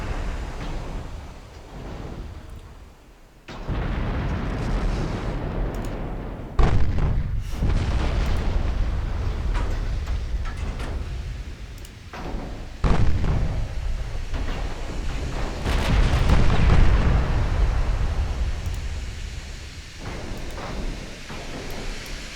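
Naval battle sounds from the warship game Ultimate Admiral Dreadnoughts, with 14-inch guns firing: repeated heavy booms and shell explosions with long rumbling tails over a constant roar of sea and battle, loud and close, no speech.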